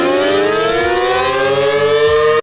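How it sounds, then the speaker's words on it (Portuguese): A loud civil-defense-style siren wails alone, a steady rising tone with strong harmonics sustained for a couple of seconds before cutting off abruptly. "Que sirene doida que é essa aqui?"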